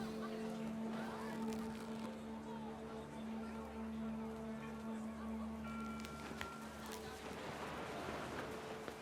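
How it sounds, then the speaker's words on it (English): Panicked geese honking in the game What Remains of Edith Finch, a faint flurry of bird calls over a steady low hum of wind and ambient game sound, with brief clicks toward the end. "The wind picked up, and panicked geese appeared and quickly went."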